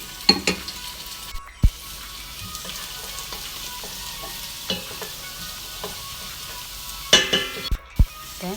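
Garlic frying in cooking oil sizzles steadily in a pan while a utensil stirs it, with a few sharp clinks of metal against the pan.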